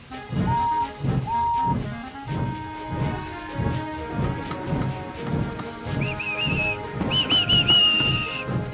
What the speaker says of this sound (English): Ready, whistled Duck, and off they went.